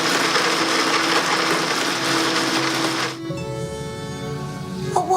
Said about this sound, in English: Activating blender.